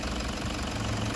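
A 2015 Toyota Prado's 1KD-FTV diesel engine idles with a steady, dense knocking clatter, heard close and alone.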